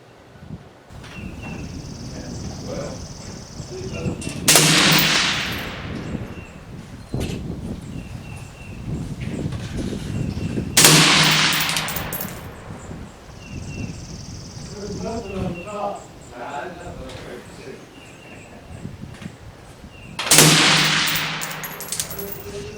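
Three loud, sharp rifle shots from a 10.5-inch short barrel firing Fiocchi 40 gr VMAX rounds at 50 yards, spaced several seconds apart outdoors, with someone talking between them.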